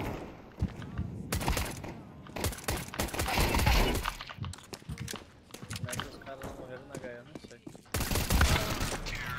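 Counter-Strike gunfire as a player shoots from inside a smoke grenade cloud: bursts of rapid shots and sharp cracks in clusters, loud and close, with people talking over the action.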